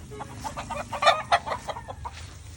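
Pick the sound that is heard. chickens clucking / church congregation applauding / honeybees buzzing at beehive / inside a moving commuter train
chickens clucking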